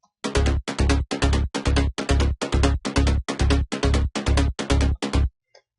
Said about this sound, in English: You get this really snappy sounding sub bass.